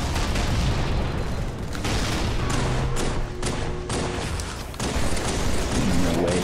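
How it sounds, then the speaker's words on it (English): Heavy booming grenade blasts in the Halo shooter, a dense run of loud explosions and crackling impacts over several seconds, close and rumbling with faint gunfire mixed in. "Come on, stop just throwing nades my way."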